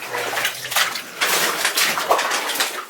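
Water oozes and trickles up out of an old mine shaft, a steady wet gurgling wash with small splashy bursts, fairly close and continuous with no talk.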